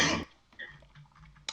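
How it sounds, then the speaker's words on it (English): A short burst of coughing or throat clearing opens, followed by faint rustling and a small sharp sound near the end. "If I can stop coughing."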